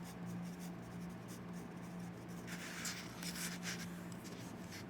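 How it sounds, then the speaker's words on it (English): A pen writes algebra equations by hand, a soft scratching of strokes on paper over a low steady hum, with a brighter cluster of scribbles near the end and no talking. "I'm gonna write that down here."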